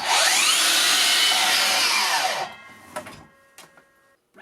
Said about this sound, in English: the miter saw.